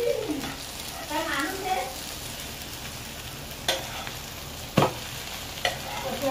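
A methi egg omelette fries in a pan with a soft continuous sizzle, broken by a few sharp knocks and scrapes as it is flipped, while a voice talks intermittently over it.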